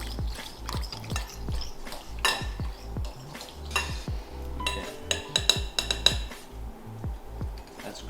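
Pizza dough ingredients mixed in a bowl with a utensil: close, repeated clinks and scrapes against the bowl in an irregular stirring rhythm, moderately loud and continuous.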